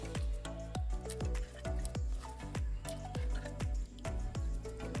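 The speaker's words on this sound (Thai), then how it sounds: "เราใส่หอมใหญ่นะครับ ลงไปในน้ำเลยครับ" Onion pieces drop into a bucket of water one after another, making a rapid series of close, resonant plops and drips.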